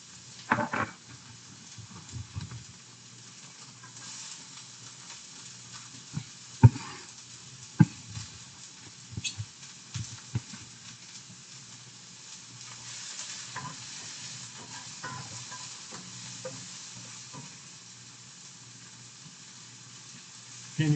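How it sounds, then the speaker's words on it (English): Garlic, onions and peppers sizzle in a frying pan for stuffed peppers, a steady soft crackle with occasional sharper pops and stirring clatter, heard up close. "I'm gonna let you guys listen to the sizzle right now."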